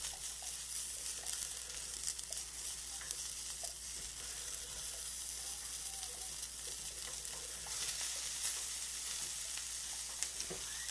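A quiet, steady hiss as French scrambled eggs cook in a thick-bottomed pot, with faint soft scrapes of a utensil stirring in the background.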